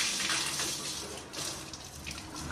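Warm water gushes steadily from a tap into a tub or basin nearby, a continuous hissing splash that dips briefly midway, with no talking.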